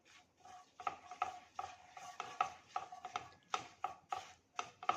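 Makhana (fox nuts) being roasted and stirred in a pan over a low gas flame with a spatula, giving a steady series of light scraping and rattling strokes, close and fairly quiet.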